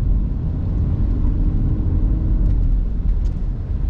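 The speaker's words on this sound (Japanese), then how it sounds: "でちょっとアクセル踏んでうならしてみましょうか。" Subaru Crosstrek e-BOXER hybrid engine revving under the accelerator while driving, a quiet, smooth low rumble that swells slightly, heard from inside the car.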